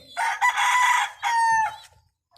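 A breeder hen that escaped her pen calls out among young birds, giving two loud, close clucking cackles with a short gap between them, then falling silent.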